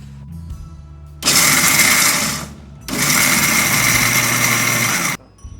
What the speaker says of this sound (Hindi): मिक्सी में डाल के इसको पीस लूँगी